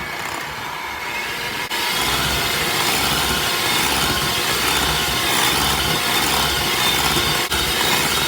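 An electric mixer switches up to high speed and whips cream with a loud, steady whirring drone that continues unbroken after a brief quieter start.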